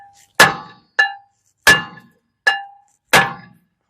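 A sledgehammer whacks the rear brake rotor of a 2017 Genesis G90 five times in slow succession, each strike a sharp, close metallic bang with a brief ringing tail and silence between blows.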